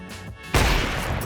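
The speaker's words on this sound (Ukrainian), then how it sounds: "О, він там стріляє постійно." Gunfire from a Counter-Strike match erupts suddenly partway through, a loud, dense burst of shots that keeps going after a quieter tonal lead-in.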